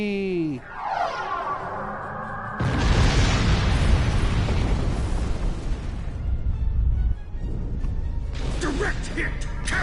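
Starship weapons fire in Star Trek Online: sweeping, chirping energy shots give way to a long, loud, rumbling barrage of hits and explosions that lasts several seconds, then fades into sharper bursts and crackles.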